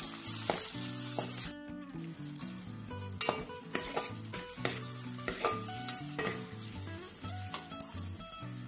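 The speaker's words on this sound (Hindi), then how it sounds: "टोमॅटो फ्राय करून घ्यायचा आहे." Tomato frying in a pan for a Malvani clam curry: a soft steady sizzle under repeated clinks and scrapes of a spoon against the pan, close but fairly quiet, with a brief dip partway through and no voices.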